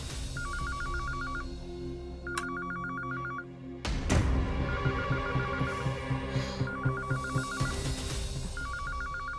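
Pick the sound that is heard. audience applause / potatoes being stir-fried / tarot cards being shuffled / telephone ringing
telephone ringing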